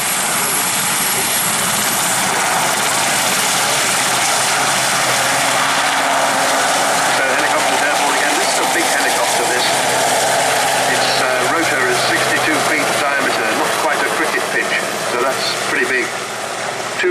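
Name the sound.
RAF Sea King helicopter, two Rolls-Royce Gnome engines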